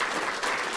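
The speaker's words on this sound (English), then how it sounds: "A round of applause, please." A brief, loud burst of audience applause at a special presentation with a Fredericton member of parliament, dense clapping throughout with no voices.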